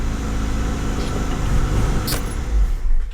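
A 1984 Chevy Citation engine idles a little high, a steady close rumble with a continuous low drone that holds throughout.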